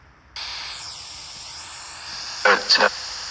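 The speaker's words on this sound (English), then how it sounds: "I'm gonna put the white noise back on" White noise switched on at night in a cemetery during a ghost investigation, a steady broadband hiss starting abruptly after a quiet moment, briefly interrupted by a couple of short louder bursts.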